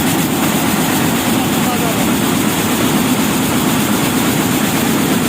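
Jacquard weaving machine running automatically in a mill, a loud, steady mechanical drone with dense rapid clatter throughout, continuous and close.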